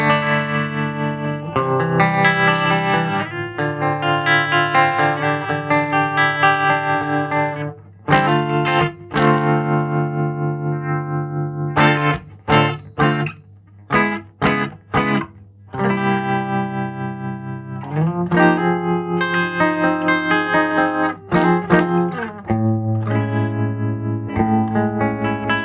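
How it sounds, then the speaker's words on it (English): An electric guitar plays chords and single notes through a tremolo effect pedal on a pedalboard, the tone colored with distortion and a wavering modulated sheen, ringing out alone with brief gaps between phrases. "You put the tremolo on."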